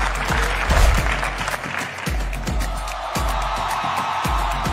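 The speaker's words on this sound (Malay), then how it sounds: "Berikan tepukan gemuruh untuk Coach Afzam" An audience bursts into loud applause welcoming Coach Afzam at an AI video-creation event, with dense, sustained clapping that carries on over deep, regular thumps throughout.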